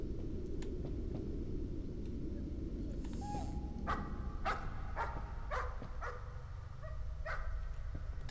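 A dog barks in the horror video game Layers of Fear, several short, sharp barks and yips at moderate distance over a low rumbling ambient background, with no talk.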